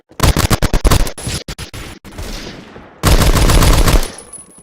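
A submachine gun fires in the video game Phantom Forces, loud and close, first as quick separate bursts and then as a sustained full-auto stream at its actual fire rate.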